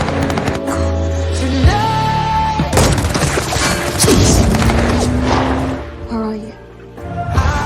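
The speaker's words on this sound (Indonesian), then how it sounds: "perahu bul yang ditumpangi Cole terkena tembakan yang meledakannya seketika" A boat struck by gunfire blows up in a film action scene: heavy crashes and booming impacts with tonal sweeps and mechanical clatter over dense, loud sound, dropping briefly before another hit.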